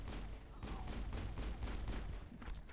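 Gunfire from the video game Mass Effect, a rapid run of repeated shots in an even rhythm, fairly quiet and continuous over a low rumbling game backdrop.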